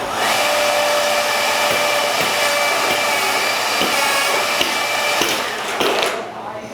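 A 950-4 door jamb machine runs with a loud, steady high-pitched whine and motor roar while machining a clamped jamb, with periodic thumps and clunks as the heads cut, then winds down at the end.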